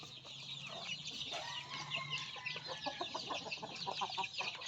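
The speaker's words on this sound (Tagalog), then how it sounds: "magpapakain tayo sa ating mga alagang native chicken" Native chickens cluck and chatter together at feeding time, a busy overlapping flock sound that is close and fairly loud, with a few short calls standing out above a steady farmyard murmur.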